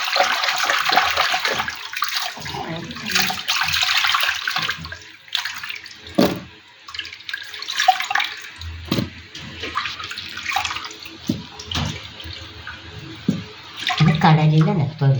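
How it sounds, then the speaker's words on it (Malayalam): Tap water runs steadily while sea anchovies are washed by hand in a home kitchen, a continuous splashing rush with brief breaks and small clatters, loud and close throughout. "നന്നായി കഴുകിയാലേ അതിൻ്റെ അഴുക്കുകൾ മാറത്തുള്ളൂ."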